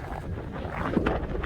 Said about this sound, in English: that wind is just stifling